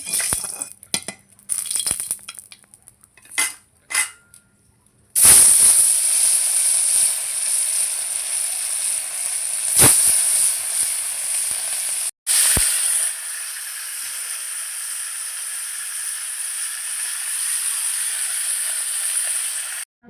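Pieces of rohu fish, rubbed with salt and turmeric, frying in hot oil seasoned with salt: a few light clinks at first, then a loud, constant bright sizzle that runs on with brief breaks.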